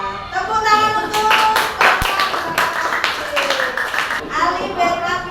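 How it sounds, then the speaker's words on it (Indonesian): A classroom of children claps hands together for a classmate, brisk loud clapping mixed with children's voices and chatter. "Tepuk tangan untuk"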